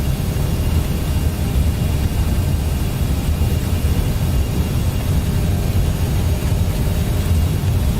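An SSG Embraer E195 airliner in X-Plane 11 at TOGA takeoff power rolling down the runway, a loud, steady low jet engine roar with a broad rumbling hiss, continuous and unbroken with no talk.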